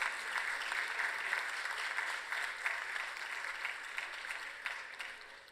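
A conference audience at a disaster risk reduction gathering gives sustained applause welcoming dignitaries onto the dais. Dense, even clapping from many hands continues throughout at a moderate distance.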